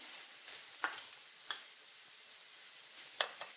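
Pieces of mankochu (giant taro) frying in a pan for a curry, a faint steady sizzle with a few sharp crackles and spatula scrapes scattered through, quiet and close with no talking.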